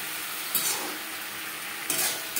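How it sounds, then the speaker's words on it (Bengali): Potatoes and vegetables frying with spices on high flame for a Katla fish curry, a soft continuous sizzle with two brief scraping stirs of a utensil in the pan, no voices. "সবজি ভাজবো হাই ফ্লেমে।"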